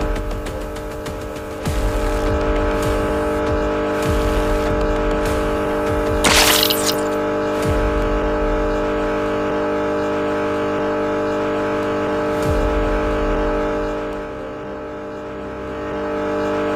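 A car drives in the video game Pink Monster Life Challenge 7, giving a steady, loud engine drone with a sustained tonal hum, a brief rising whoosh midway, and low thumps as it keeps going.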